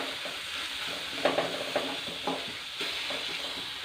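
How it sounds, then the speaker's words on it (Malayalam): A spoon stirs spice powders in a sizzling frying pan while making a Kerala-style bitter gourd theeyal curry. Close scraping strokes sound over a constant low frying hiss, with no talking. "ഇനി എല്ലാം കൂടി നമുക്കൊന്ന് മിക്സ് ചെയ്യാം"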